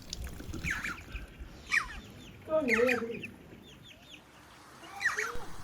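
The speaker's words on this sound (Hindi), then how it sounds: "और ये मुर्गियां भटकते हुए यहाँ भी पहुँच गई हैं।" Free-roaming hens near a quiet village house in Pangi Valley with potato fields nearby, clucking in a few short bursts spread across the stretch, moderately close against a soft outdoor background.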